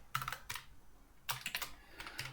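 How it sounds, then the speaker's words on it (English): Bursts of computer keyboard typing come in two quick clusters of clicks separated by a short pause, close and moderately loud with nothing else heard. "Can I type maybe?"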